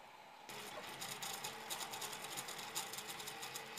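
A 3D printer with a direct granule extruder prints at 0.2 mm layer height, starting abruptly into a steady, fast whirring buzz of stepper motors with rhythmic mechanical pulses, close and moderately quiet.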